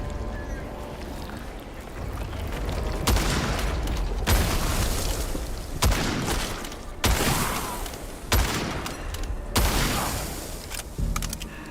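Shots fired by the player in the game Witchfire land as heavy, booming blasts, a run of loud impacts every second or so over constant rumbling game noise.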